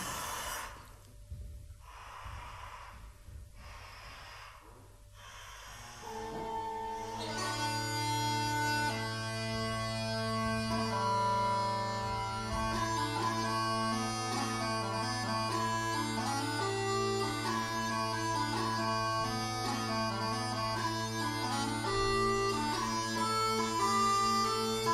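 A Finnish säkkipilli bagpipe plays a steady, loud reedy tune over a continuous drone, after a few seconds of breathy bag-filling puffs and short stops at the start.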